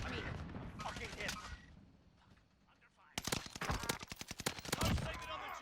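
Rapid bursts of automatic gunfire from the video game Warzone with an MP40 or StG 44, dense cracking volleys in the second half, with someone talking over the first part.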